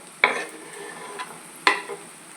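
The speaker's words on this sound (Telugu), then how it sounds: "ఇప్పుడు అరటికాయ ముక్కలు వేసేసుకుందాము." Raw plantain pieces tipped into a pan of frying onions for a dried-prawn curry, giving two sharp clattering hits, each followed by a brief burst of sizzling against a quiet background hiss.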